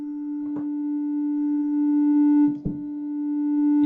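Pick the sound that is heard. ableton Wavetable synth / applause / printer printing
ableton Wavetable synth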